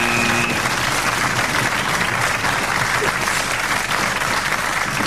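A studio audience at the 1997 German TV talk show Zimmer frei applauds steadily and loudly, a dense, continuous wash of clapping that fills the whole stretch without letting up.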